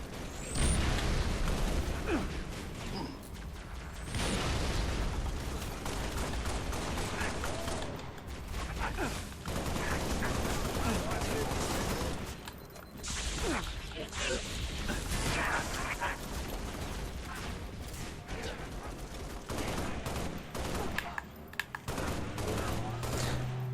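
Rifle fire in the video game Halo Reach, with repeated bursts and single shots cracking throughout amid game sounds, while someone talks over much of it.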